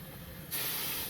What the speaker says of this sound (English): Really getting after the steam brake, pulsing it for a nice smooth stop.